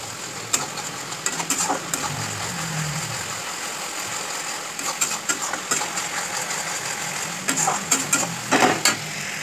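Turmeric and chili spice paste with a splash of water fries in a pan for a chicken dish, giving a steady close sizzle broken by intermittent scraping strokes of stirring, with no talk.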